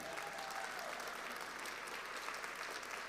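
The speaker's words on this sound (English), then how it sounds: "Give him a big round of applause" Faint, steady applause from an audience at an acceptance ceremony, a continuous patter of clapping heard at a distance.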